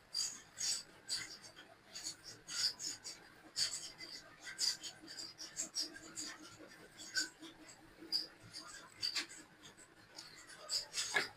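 An eraser wipes writing off a board in a math classroom, giving soft rhythmic rubbing strokes repeated steadily, faint and close.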